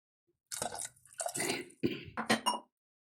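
Water is poured from a mixer jar into a roasted-coconut potato curry: a short, close run of gurgling glugs and wet splashes lasting about two seconds, then silence.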